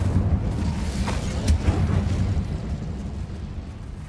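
An Incendio fire spell blast in Hogwarts Legacy, a rumbling, roaring burst of flame with a low, sustained whoosh that swells and then tapers off.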